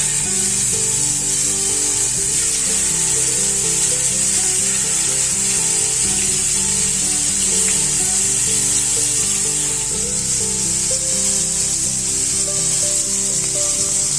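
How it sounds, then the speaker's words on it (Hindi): Marinated chicken pieces fry in hot oil in a pan, giving a steady, dense sizzle that holds evenly throughout with no pauses and no voices. "देखिए ऑयल गरम हो चुका है, अब हम इसमें मैरिनेट किया हुआ चिकन पीसेस डालेंगे"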